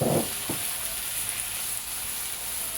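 Tilapia fish and seasonings fry in a pan over low heat, giving a steady, close hissing sizzle throughout, with a soft clatter of stirring at the very start.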